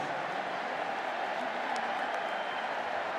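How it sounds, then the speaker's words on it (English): Scattered applause from a home football crowd in a large stadium at a 2022 college game, steady broadband crowd noise with light clapping throughout, no voices standing out. "You can hear kind of a mocking applause from the home crowd to Ladd McConkey fielding that punt cleanly."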